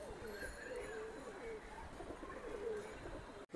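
Giribaj pigeons coo faintly in low warbling phrases under steady background noise, with voices talking nearby.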